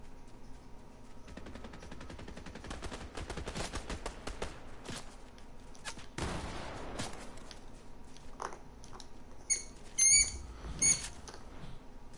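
Scattered gunshots and short automatic bursts ring out at moderate distance, with a few sharper, louder cracks near the end and no talking.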